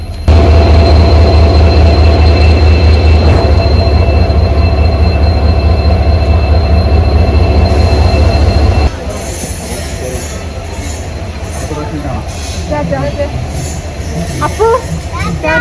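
A train rumbles loudly nearby at a railway station in Thiruvananthapuram with a steady low drone, then shifts to quieter rolling and squealing wheels; people talk in the background.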